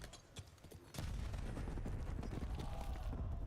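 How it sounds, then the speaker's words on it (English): Grenades going off in a Call of Duty esports match, heard as a sudden loud blast followed by dense, sustained rumbling gunfire and explosions after a quieter opening. "Catching some nades, but staying up."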